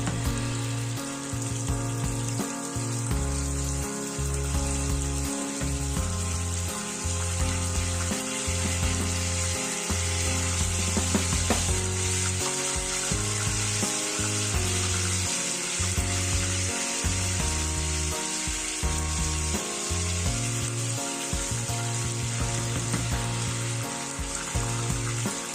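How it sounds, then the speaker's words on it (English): Continuous sizzling of cooked fish frying in hot oil, a steady crackling hiss over a low background tone, with no talking. "I'll just begin to add the cooked fish so that it can fry."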